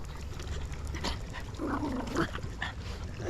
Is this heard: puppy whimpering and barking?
yes